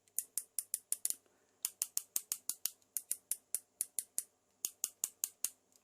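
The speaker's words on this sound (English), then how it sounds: "We've got an awesomely clicky ratchet." Clicky ratchet joint on a Bandai Shin Mazinger Z die-cast robot figure being worked through its stops: quick bursts of sharp, close plastic clicks, about six per burst, in crisp rhythmic runs with short pauses between.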